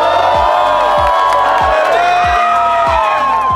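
A big crowd at a 1v1 streetball basketball tournament cheers and whoops loudly throughout, voices blending into a continuous roar over a steady rhythm of deep low thumps.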